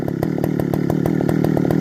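A Partner Farmer chainsaw runs steadily at close range, its loud engine drone carrying regular rhythmic pulses throughout with no talk over it.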